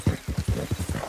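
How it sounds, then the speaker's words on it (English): Horse hooves clip-clopping in Red Dead Redemption II, a quick steady run of about eight close, loud hoofbeats at a trotting rhythm. "I feel like we've been riding this horse forever."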